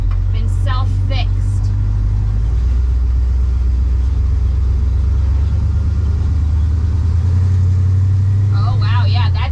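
A hot rod's engine and exhaust idle with a deep, steady rumble close by, continuing throughout while a person talks over it.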